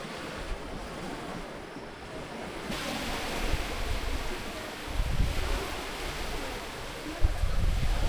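Strong wind roars against the microphone beside the sea near a small cave on Balut Island, Davao Occidental, Philippines, with surf rumbling underneath; a continuous loud, gusting rush with no voices.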